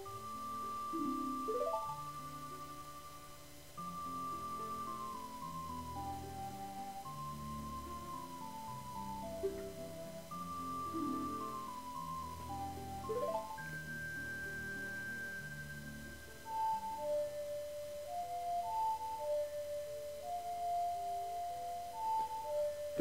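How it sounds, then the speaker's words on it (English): Song of Time melody from Zelda: Majora's Mask plays as a slow sequence of sustained notes over soft game music, quiet and steady with no talking. "That is the Song of Time from Ocarina of Time."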